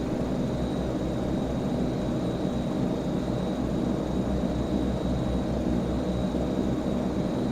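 A single-engine propeller plane taxis in the P3Dv5 flight simulator, its engine droning steadily at low power with a constant hum and faint whine, unbroken and fairly loud for the whole stretch.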